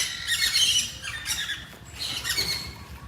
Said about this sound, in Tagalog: Iba-ibang klase ng pato.